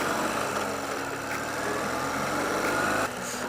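A Ural sidecar motorcycle's engine pulls away in first gear with a steady, loud, vibrating drone and low rumble, dipping briefly near the end, with nobody talking over it.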